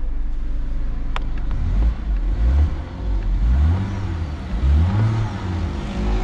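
A BMW turbo engine revs repeatedly up and down in a steady, throaty cycle, loud and close, with the rise and fall of each rev clearly audible and a brief sharp click early on.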